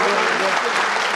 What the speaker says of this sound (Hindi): एक बार जोरदार तालियां ज्योति त्रिपाठी के लिए आप बजाइए।